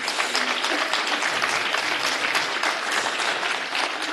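An audience claps steadily and loudly for Jorge at an industrial fair in Río Cuarto, dense applause sustained throughout without pause.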